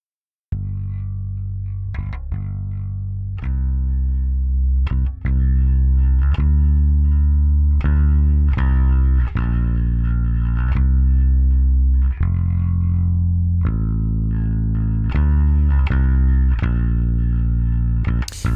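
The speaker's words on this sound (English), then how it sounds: "here is the bass." A mildly distorted electric bass plays a repeating riff of plucked low notes, loud and close, with no other instruments.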